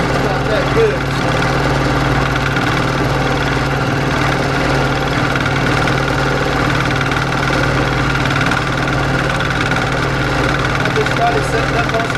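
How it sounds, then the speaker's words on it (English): A milling machine hums and grinds steadily as it cuts about 200 thousandths off the bottom of a lathe tool, a loud continuous machine drone with someone talking over it. "we're going to mill about 200 thousandths off the bottom of the tool"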